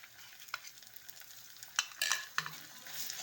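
Ginger and garlic paste stirred in a pan for a dhokar curry, a few scraping strokes and soft sizzles spread over a quiet background, with no talking.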